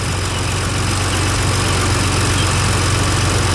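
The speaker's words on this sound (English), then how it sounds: "the idle of the M30 engine does have a ticking sound, and that is completely normal" A 1984 BMW 635CSi's inline-six M30 engine idles steadily and smoothly, a low constant hum with a faint, fast ticking running through it.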